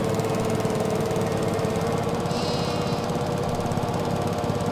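Lawn mower engine in Farming Simulator 22, running with a loud, steady, rattling drone close by, with no pauses and a brief higher whine partway through.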